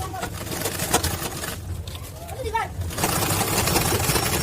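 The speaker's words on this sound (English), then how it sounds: "So now we start the sewing." A sewing machine stitches the fabric of a foldable school bag, a steady motor whir that pauses briefly midway and then resumes, with someone speaking over it.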